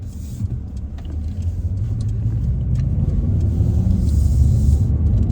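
A 2023 Mercedes CLA sedan pulls away, heard from inside as a loud, steady low engine and road rumble that builds gradually, with faint ticking clicks above and no talk.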